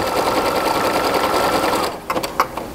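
A sewing machine hums steadily as it stitches fabric to attach straps, then stops, leaving a few short clicks and taps.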